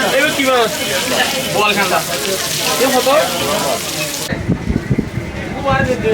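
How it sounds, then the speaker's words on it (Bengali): Fish frying in a pan at a lunch spot on Saint Martin's Island, Bangladesh: a dense, loud sizzle heard close, with a voice talking over it before a sudden change in the scene. "এখানে মাছ ভাজা হচ্ছে"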